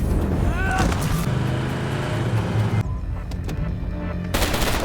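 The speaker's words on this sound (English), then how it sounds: "shooting and killing the driver" Rapid bursts of automatic gunfire ring out in an action film chase as the driver of a fleeing jeep is shot, the shots loud and close over a rumbling vehicle, followed by a quieter stretch before the noise returns.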